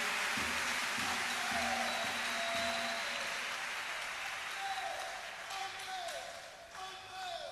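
A church congregation breaks into steady applause, a dense wash of clapping that holds for several seconds then gradually thins and fades, with faint voices underneath.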